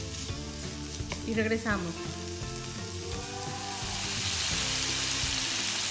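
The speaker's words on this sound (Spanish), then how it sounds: "Vamos a dejarlo aquí guisando unos 3 minutos." Longaniza chorizo sizzles as it cooks in a pan, releasing its own fat. A brief spoken phrase is heard early, and the frying hiss swells into a louder, steady crackle toward the end.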